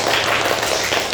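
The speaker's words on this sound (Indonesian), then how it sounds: "Tepuk tangan untuk Rafif." An audience at a university student competition claps briefly, a dense, even patter of hands close by with no talking.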